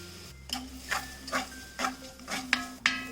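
Oats being roasted in oil in a hot cast iron pan, with about eight soft scraping stirs and clinks of a spoon against the pan at a steady rhythm, close by, under a faint low sizzle and no talking.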